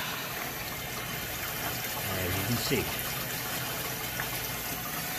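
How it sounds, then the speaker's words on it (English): Water runs and trickles through a Hoshizaki ice machine, filling the evaporator, as a steady wash of flow beneath someone talking close by. "You can hear the water coming through right now."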